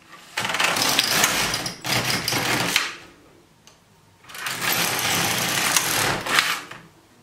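An LK150 knitting machine knits rows, its carriage making two long rasping, clattering passes separated by a brief pause, close and loud.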